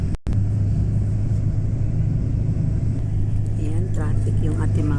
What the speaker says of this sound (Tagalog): Ayan, traffic yung ating mga kalsada.